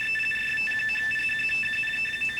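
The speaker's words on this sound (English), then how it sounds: "that sounds like RTTY" A steady, warbling radioteletype (RTTY) data signal of two alternating high tones, received on an MFJ-8100 shortwave regenerative receiver, chatters continuously over a faint background hiss.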